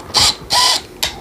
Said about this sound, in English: that brittle, cheap plastic, while using a drill, just breaks.